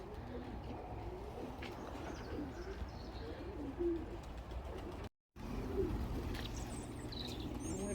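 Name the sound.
young birds flapping and cooing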